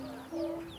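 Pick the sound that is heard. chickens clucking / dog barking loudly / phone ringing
chickens clucking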